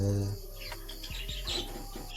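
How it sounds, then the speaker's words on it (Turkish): Pet budgerigars chirp and tweet in short bursts close by, fairly faint over a low steady hum. "Muhabbet kuşlarım var 3 tane."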